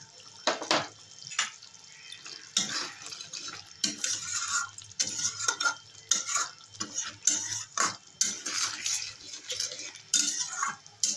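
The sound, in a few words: stirring and sautéing chopped tomato with spices in a pan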